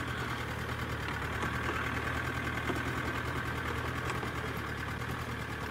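A safari vehicle engine idles and rumbles as it creeps slowly forward in the Mara, a steady, close, low mechanical drone with a faint knocking pulse and no talk.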